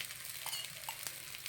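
A paneer paratha frying on a hot pan with a little oil, giving a faint, steady sizzle with a few soft pops and crackles, no voices.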